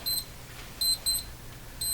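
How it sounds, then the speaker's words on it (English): Alarm of a Canadian General Electric Model A55Z clock beeping in short, bright bursts: two quick pulses, then a pause, then repeating groups, loud and close with no voices. "if I could stop that alarm, I would. It's from a clock that has only 2 control buttons on it."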